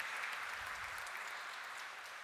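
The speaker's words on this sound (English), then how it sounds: "Let's give him a big round of applause, my friends" An audience at a live session of a saint's event applauds a speaker, a faint, steady wash of clapping heard from a distance.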